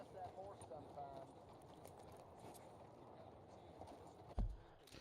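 Horse hooves clip-clopping at a steady walking rhythm in the game Red Dead Redemption, soft and fairly distant under a voice talking and a faint music bed, with one louder thump near the end.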